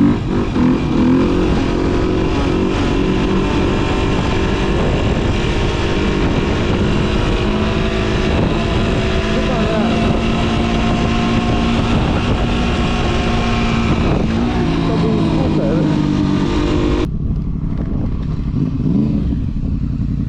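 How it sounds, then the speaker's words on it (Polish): A motorcycle with a branded aftermarket exhaust revving high, loud and buzzing, sustained and close, cutting off sharply near the end. "Słyszę jakieś wysokie obroty markowego wydechu"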